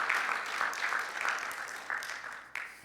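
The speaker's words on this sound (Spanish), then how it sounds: "¿Puedes darle otro aplauso de alabanza a Él?" A church congregation claps in praise during a service, a fairly soft, continuous round of applause with a few sharper individual claps standing out near the end, no voices on top.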